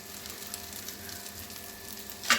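Masoor dal and paneer kababs frying in a pan, a steady moderate sizzle close by, ending on a brief sharp clink or scrape.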